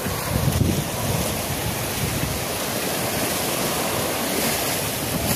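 Sea waves wash in a constant broad roar near a river mouth after a storm, mixed with wind buffeting the microphone, steady and fairly loud with no voices.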